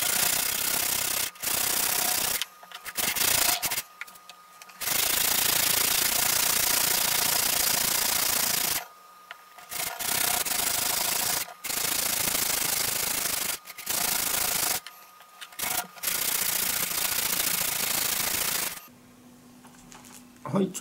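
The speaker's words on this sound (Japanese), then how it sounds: "一方向だけじゃなくいろんな方向から磨くようにしてください。" A stone polished by hand with waterproof sandpaper, steady close gritty rubbing strokes in long bursts broken by short pauses, ending with quieter scraping.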